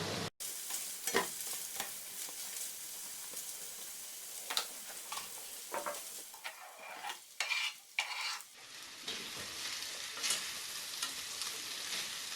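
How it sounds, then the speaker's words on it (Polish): Onion is tossed into a pan of frying sausage and bacon, bringing a constant hissing sizzle broken by stirring scrapes and clinks of a utensil, close up with no talking. "Teraz tą cebulę wrzucę do podsmażającej się kiełbasy i boczku."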